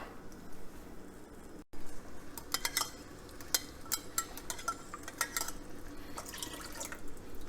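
Water sloshed around inside a small tomato paste can, a run of short wet drips and clinks against the metal, close by with no talking, after a brief drop in level.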